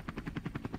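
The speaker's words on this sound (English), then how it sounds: "I think the helicopter is moving south" Helicopter rotor chopping steadily in the survival video game DayZ, a rapid regular thudding beat throughout at moderate distance, with no voices.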